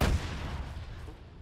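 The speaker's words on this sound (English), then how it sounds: "that rocket was close" A nearby rocket explosion in the combat game Arma 3 hits as a single loud, deep boom, then rumbles away and fades over about a second.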